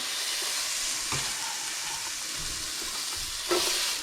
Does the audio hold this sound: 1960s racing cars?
no